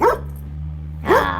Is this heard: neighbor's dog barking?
yes